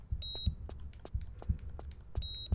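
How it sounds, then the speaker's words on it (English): Repeated electronic beeping from the radar in the PC video game Tomb Raider III, two steady tones about two seconds apart over soft rhythmic low thumps, with no speech. "That beeping is the radar"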